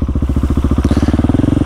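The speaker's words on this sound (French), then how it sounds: "petit coup de frein léger pour refaire tomber la moto" A KTM 701 motorcycle held in a wheelie roars close and loud with a steady, fast pulsing engine beat, a slight change in the note partway through as the rear brake is lightly tapped to bring the front down.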